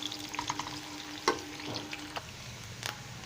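Onions sautéing in hot cooking oil in a pan for chicken macaroni, a steady soft frying sizzle with occasional stirring clatter and a couple of sharp utensil knocks, close and fairly quiet.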